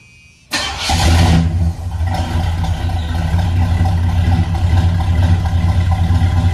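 A 1978 Chevy Landau with flow exhaust fires up after a moment of quiet, a loud deep rumble that revs once and settles into a steady, throaty running note close by.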